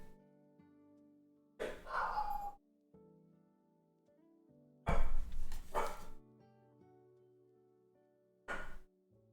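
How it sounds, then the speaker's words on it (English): Dogs bark in three separate bursts, fairly close, with quiet stretches between them over a faint steady background tone. "I don't know why my dogs are barking."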